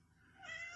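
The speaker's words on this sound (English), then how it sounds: "That's my cat Riley. She's in here with me" A pet cat indoors gives a single short, faint meow that rises in pitch and fades after less than a second.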